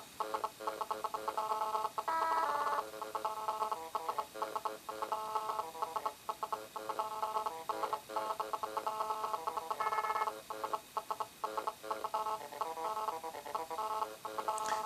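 The Radiation ringtone on a Samsung Galaxy Nexus mimics GSM phone interference, a stuttering, pulsing electronic buzz. It chatters in rapid, uneven bursts throughout, fairly quiet and alone with no talking.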